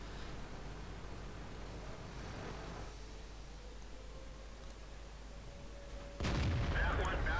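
A tank cannon fires once in the World of Tanks game, a single loud, sharp blast near the end that cuts through a steady, noisy rumble of battle ambience.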